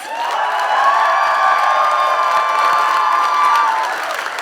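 A live audience cheers and shouts in a sustained loud wave for a comedy show contestant, a dense crowd roar with whoops and some clapping that holds steady and eases off at the end.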